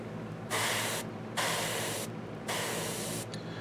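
An airbrush sprays paint onto a Reaper miniature Hill Giant in three distinct bursts of close, bright hiss, each about half a second to a second long, separated by quieter gaps over a low hum.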